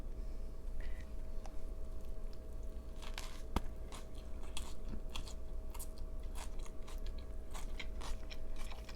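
Someone biting into and chewing an Angus beef slider up close, soft crunches and wet chewing clicks repeating irregularly over a faint steady background hum.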